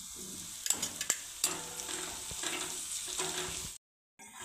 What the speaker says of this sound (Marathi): आलं लसूण थोडंसं परतवून घेतलं